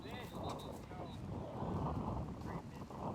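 Gusting wind buffets the microphone on an outdoor disc golf course during the 2023 Open at Tallahassee, a steady rushing roar that swells and fades under faint background voices.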